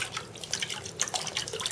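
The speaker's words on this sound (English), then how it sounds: "I usually use a bowl where I'm going to let all the coconut water come out" Coconut water dripping and splashing into a bowl as it drains from an opened coconut during smoothie prep, a close, steady patter of irregular drips with brief liquid splashes.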